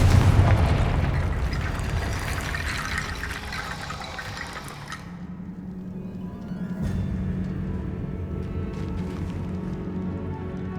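Confringo fire spell in Hogwarts Legacy bursts with a loud whooshing blast that fades into rumbling, followed by quieter fizzing and a second softer boom.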